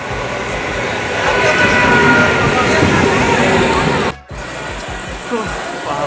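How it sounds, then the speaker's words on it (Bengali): A train pulls into a railway station with a loud, sustained rumble and clatter filling the first four seconds, then cuts to quieter rhythmic clacking; no talk is heard. "ট্রেন ঢুকে গেছে, ট্রেন আসছে"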